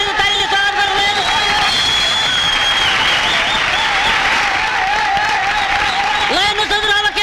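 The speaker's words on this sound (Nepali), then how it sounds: "तालीको तालीको तालीले स्वागत गर्नु हेर्नुहोस्" Audience applause with some crowd noise welcoming a motorcycle stuntman at a show, steady and dense throughout, near and loud with a few tonal music-like lines above it.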